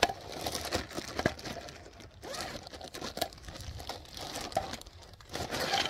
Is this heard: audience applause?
no